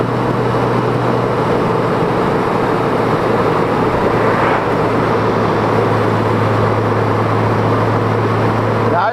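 A Honda GoldWing motorcycle rides mountain roads out of Robbinsville, North Carolina, in rain, with a constant loud roar of engine and wind and a steady low hum throughout.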